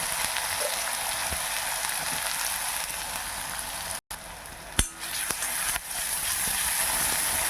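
Onions frying in hot oil for a Tamil cauliflower egg podimas, a steady close sizzling hiss throughout with a brief dropout midway and a few sharp pops or clicks.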